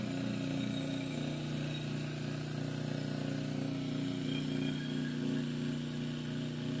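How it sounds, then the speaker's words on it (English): An electric motor wired across the AC line on a dual transformer setup with full-wave bridge rectifiers feeding a battery, running with a steady, unchanging buzzing hum close by. "absolutely no change in the tone of the motor at all"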